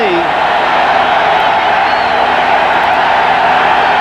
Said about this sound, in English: the noise from a predominantly partisan Arizona State crowd